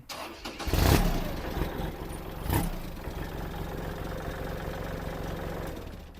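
Kubota L3608DT or L4708DT tractor diesel engine cranking and catching with a loud burst near the start, a second surge, then settling into a steady rumbling idle.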